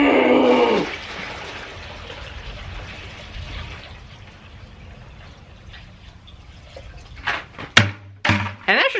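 Cold water poured from a 5-gallon bucket into a fish tub with a running aerator, a steady broadband rush of pouring and splashing that fades to trickling, followed by a few louder knocks and handling noises near the end.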